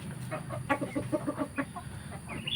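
A neighbour's rooster wanders into a backyard flock of village chickens and gives a rapid string of close, clucking calls, about a dozen short notes in quick rhythm, with no talk.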